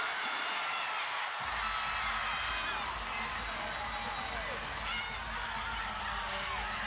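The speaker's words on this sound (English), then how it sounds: "You can see the cameras on their platform shaking because of the crowd noise right now." Loud, dense roar of a big crowd at an NCAA women's volleyball regional match between Louisville and Oregon, a steady wash of cheering and shouting that runs unbroken from start to finish.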